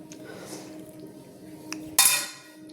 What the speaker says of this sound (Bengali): কড়াই থেকে প্লেটে সার্ভ করে নিয়েছি